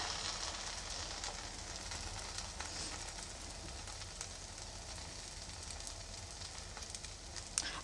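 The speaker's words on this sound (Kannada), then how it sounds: "ತವಕ್ಕೆ ನಾನಿಲ್ಲಿ ಒಂದೆರಡು ಟೇಬಲ್ ಸ್ಪೂನ್ ಎಣ್ಣೆನ ಹಾಕ್ಕೊಂಡಿದ್ದೀನಿ ಇವಾಗ ಚಪಾತಿನ ನಾವು ಎರಡೂ ಕಡೆಯೂ ಸಹ ಚೆನ್ನಾಗಿ ಬೇಯಿಸ್ಕೋಬೇಕು" Chapati frying in a couple of tablespoons of oil on a hot tava, giving a steady, dense sizzle that holds evenly throughout with no talking.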